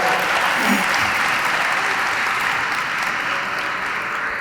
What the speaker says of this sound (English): Let's give them another round of applause because that was very well deserved.